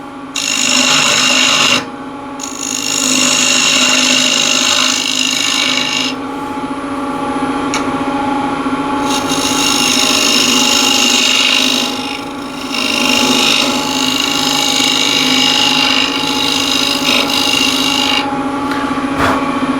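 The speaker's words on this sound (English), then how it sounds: "I'll use a square end scraper just to make that first" Square end scraper cutting yew wood on a spinning lathe, loud continuous scraping hiss in repeated passes with brief lulls between cuts, over the steady lathe hum.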